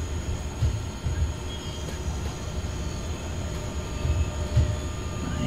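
An E186 electric locomotive hauls a freight train in the SimRail railway simulator, giving a steady rolling rumble with occasional low thuds and faint wheel noise, fairly loud and continuous, with no voices.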